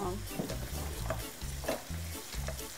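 Pastırma frying in a pan with spinach, a close, loud sizzle with a steady rhythm of stirring strokes roughly every half second, no speech.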